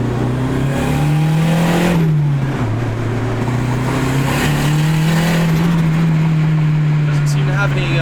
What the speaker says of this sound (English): I tried to hit a pretty quick shift there.